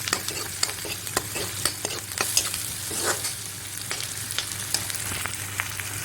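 Oil frying in a thick hotel-style kadai, a dense steady sizzle with regular scrapes and taps of a ladle stirring through it, close and loud.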